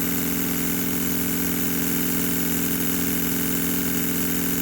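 A twin-cylinder marine steam/air engine with a flyball governor runs at about 1,282 RPM. It gives a steady, fast mechanical chuffing hum with an even rhythmic pulse, close and constant, with no voices.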